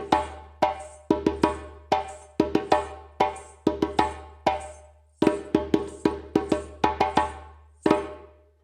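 Djembe hand drum playing the first accompaniment rhythm for the West African rhythm Fé, sharp slaps and tones repeating in a steady looping pattern, close and clear with no talking.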